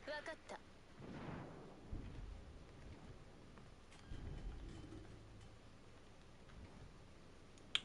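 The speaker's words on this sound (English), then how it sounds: "I just shot at the Alaska." Naval gunfire in World of Warships Legends, heavy booming salvos rolling out at moderate distance, a few low thuds spread across the clip over a steady ambient rumble, with some speech underneath.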